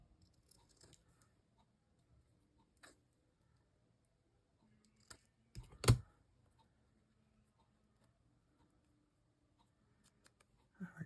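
A paper mistletoe piece for a small handmade zine is trimmed in one crisp, close snip that stands out against an otherwise quiet room, with a few faint taps before and after.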